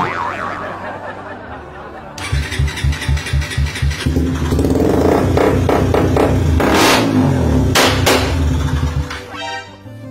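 A Raider 150 Fi motorcycle with a Malaysian concept setup starts after a brief whir, then idles in a quick, loud pulsing rhythm before revving hard a few times up close, while people talk nearby.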